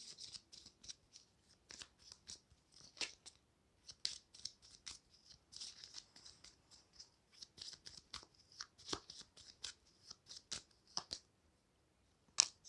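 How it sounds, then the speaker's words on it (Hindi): A deck of tarot-style cards is shuffled by hand at close range, quiet with a string of irregular crisp riffling and snapping bursts over several seconds. "और शफल करना पड़ेगा मुझे, 2 कार्ड पॉप आउट हो गए थे"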